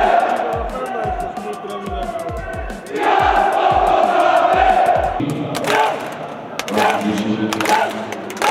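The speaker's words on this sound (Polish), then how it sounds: "Kibice z Niecieczy dopisali i tłumnie stawili się na stadionie przy Okrzei 20, aby z całych sił dopingować swoich piłkarzy." Football fans of Termalica Bruk-Bet Nieciecza chant and cheer in the stadium during a match against Piast Gliwice, rhythmic drumbeats thumping at first, then a loud sustained crowd roar and swelling chants.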